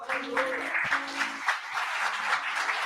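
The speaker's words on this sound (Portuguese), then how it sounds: "Aplauda Jesus." Crowd applause, a steady wash of many hands clapping with a few cheers mixed in, moderately loud throughout.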